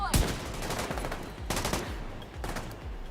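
Rapid gunfire from The Division 2, sharp repeated shots with a strong burst at the start and further volleys around the middle and end, loud and close over a steady game backdrop.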